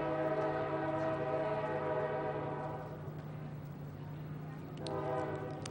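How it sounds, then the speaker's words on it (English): A train rumbles past with its horn sounding in long, steady blasts throughout, loud and close, drowning out an outdoor talk at a book festival. "Wait just a minute, wait for the train. Here it comes."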